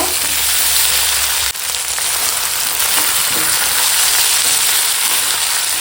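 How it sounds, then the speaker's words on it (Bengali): Ginger, cumin paste and green chillies sautéing with vegetables in a pan, a loud steady sizzle with fine crackle running throughout and one brief dip near the start. "মশলার সঙ্গে সুন্দর করে একটুখানি সব কষিয়ে নেব"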